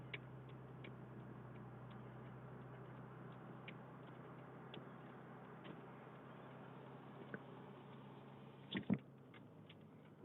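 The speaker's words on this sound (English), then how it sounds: "we'll put on our four-way flashers. So you might hear a little ticking noise there as we roll down the road here." Faint, evenly spaced ticking of a vehicle's four-way hazard flashers inside a cab rolling down the road, soft clicks over a steady low road hum, with a couple of louder knocks near the end.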